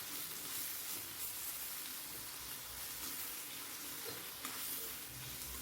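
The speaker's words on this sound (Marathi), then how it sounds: "टमाटा पण आपल्याला तेलावर छान परतून घ्यायचा आहे" Chopped tomato and onion frying in oil in a pan, a steady faint sizzle with soft crackles throughout and no speech.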